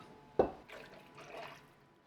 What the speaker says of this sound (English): And the more we pour this back and forth, the more even it will get.